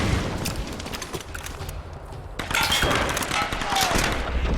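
Rapid gunfire from the Tomb Raider video game, bursts of shots running through the whole stretch, loud and dense, with a player's voice speaking over part of it.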